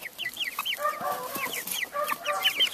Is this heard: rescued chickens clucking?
yes